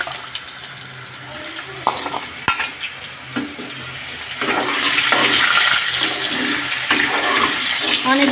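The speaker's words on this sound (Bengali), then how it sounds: "আমরা গুঁড়ো দিয়েছি, এগুলো একটু ভেজে নিতে হবে।" Spice powder frying in hot oil for a taro stolon (kochur loti) dish made with mustard paste: a steady close sizzle that swells louder about halfway through, with a few sharp stirring clicks.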